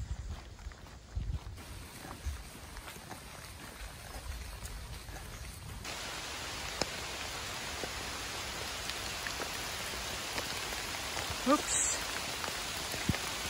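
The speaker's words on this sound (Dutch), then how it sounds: "de regen zwelt aan." Rain falling on a dark, gloomy morning during a walk on the GR5 trail between Zandhoven and Herselt, the steady patter thickening into a louder, denser downpour partway through, with a brief spoken exclamation early on.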